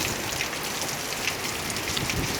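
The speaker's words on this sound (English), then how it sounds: "It's raining sideways." Heavy hurricane rain driven sideways by strong gusting wind during Hurricane Dorian in Halifax, Nova Scotia, a dense, steady hiss of drops pelting surfaces close by, with no talk.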